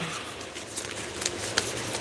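Dense, crackly riffling of a deck of tarot cards being shuffled, steady for about two seconds with a few sharper snaps, close up.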